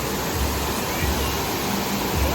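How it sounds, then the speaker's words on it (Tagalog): A broad, steady rush of falling water from a waterfall at Cat Cat Village in Sapa, a constant roaring wash filling the scene with no clear breaks. "Ito na yung waterfall."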